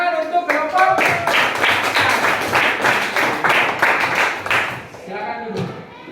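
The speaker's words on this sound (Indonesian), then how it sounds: "Tepuk tangan untuk kelompok." Classroom applause for a student group after their presentation in a university science lesson, a dense burst of many hands clapping at close range for several seconds, fading out with a few scattered claps and voices at the end.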